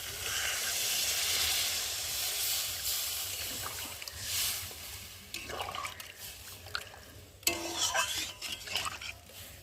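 Water is poured into a pan of potatoes frying in spices, setting off a loud sizzling hiss that fades into uneven crackles and bubbling, close by and with no one speaking.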